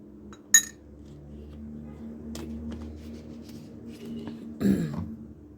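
A spoon clinks while tahini is spooned into a homemade cough remedy. Two sharp metallic clinks ring out, one early and one near the end, over a quiet kitchen background.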